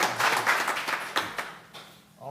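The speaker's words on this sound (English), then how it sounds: "Big round of applause one more time." A short burst of applause rises in a school board meeting hall during a student recognition, clapping that fades quickly within a couple of seconds with a voice beginning to speak at the end.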